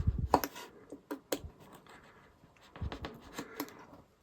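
Scalpel freehand cutting through card for a model railway: quiet, scattered scratchy strokes and small clicks in irregular bursts, close and faint.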